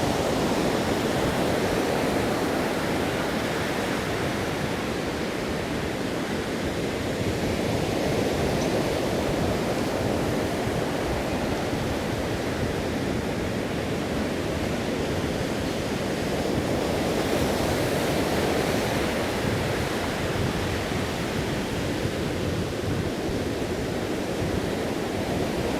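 Ocean waves wash beneath a beach pier ahead of a hurricane, a constant loud roar of surf with slow swells rising and falling, mixed with wind noise and no voices.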